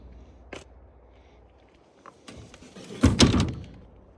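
Entry stairs on an Outdoors RV 25RDS travel trailer are folded in, giving a single clunk, then a pause, and finally a cluster of louder metallic thunks and rattles near the end.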